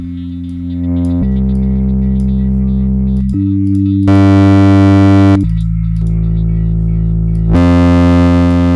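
A loud, buzzy synth plays sustained notes that shift pitch in a dark pop track, with added gritty distortion that grows harsher and brighter in the later notes.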